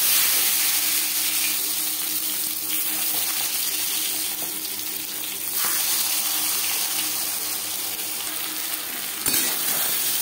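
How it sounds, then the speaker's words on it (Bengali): Boal fish roe frying in three spoons of hot refined oil, a steady dense sizzle that holds loud and close throughout with a faint splash of water near the end. "3 চামচ রিফাইন্ড অয়েল গরম করে নিয়েছি। এবার দিয়ে দেব মাছের ডিম।"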